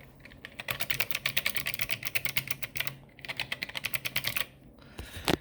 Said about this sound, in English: Hear that? Clicky, non-clicky.